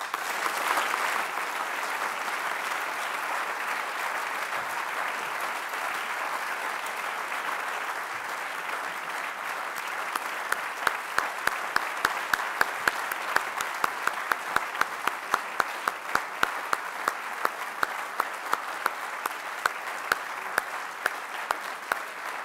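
Sustained applause from an awards-ceremony audience at the 2011 Freedom of Expression Awards, following a speech about freeing imprisoned relatives; a steady dense wash of clapping throughout, with a few sharper individual claps standing out later.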